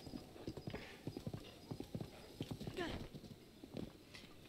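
Horse hooves clip-clop in rapid, steady rhythm in the video game Breath of the Wild, with a neigh partway through and a person talking over the galloping.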